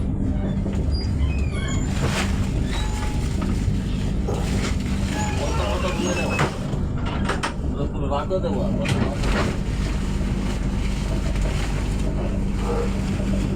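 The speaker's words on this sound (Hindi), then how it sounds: "जस्ट स्लो चल रही है ट्रेन अभी" Gitanjali Express train rolling slowly, a steady rumbling clatter of wheels and carriages close by with continuous low drone, voices talking over it throughout.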